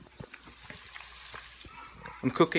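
Corned beef frying in a pan gives a low crackling sizzle with light stirring clicks, ending in a louder burst of spatter, while a voice talks over it.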